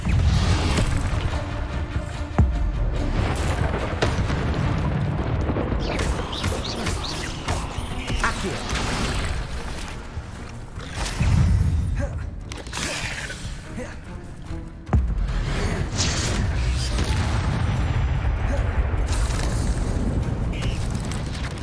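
Crashing, booming bursts of an Incendio fire spell during a Hogwarts Legacy fight with spiders, set in a dense, loud wash of combat effects and music with sharp impacts around the middle and later.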